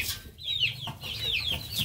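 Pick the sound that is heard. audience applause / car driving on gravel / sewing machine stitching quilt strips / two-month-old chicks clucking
two-month-old chicks clucking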